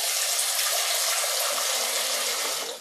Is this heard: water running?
yes